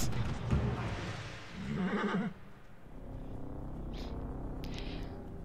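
Loud whinnying from a horse in Assassin's Creed Origins fills the first two seconds, then trails off into quieter hoof clops and ambient game sounds.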